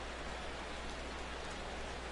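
Heavy rain pours down steadily in a baseball video game, a dense, even hiss of falling water that holds constant from start to finish, with no voices.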